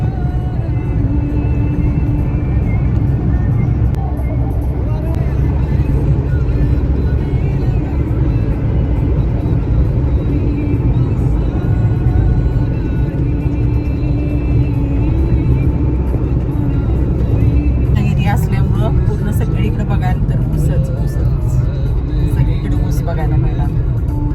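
A car's engine hums and road rumble drones steadily from inside the vehicle, with a voice speaking over the continuous low noise.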